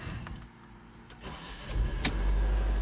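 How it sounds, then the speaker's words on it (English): 2018 Vauxhall Corsa 1.4 Turbo being started: a brief starter crank followed by the engine catching and settling into a low, close idle rumble. "So we'll put the key in and start her up."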